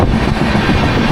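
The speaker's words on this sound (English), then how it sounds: "It's a long train. I overtake the train." A long train rumbles steadily past a cyclist riding through a tea estate, a loud continuous low roar with wind buffeting the microphone and no talk.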